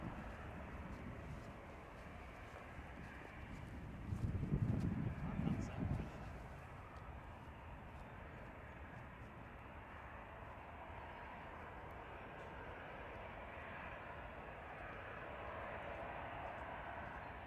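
An EasyJet airliner passes over near Manchester Airport, a faint, distant jet rumble that swells briefly and then fades into steady outdoor background noise, with a person talking quietly.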